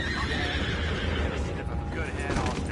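Horses whinny loudly amid a busy Red Dead Redemption 2 game soundscape, with hoofbeats and talking voices mixed in throughout.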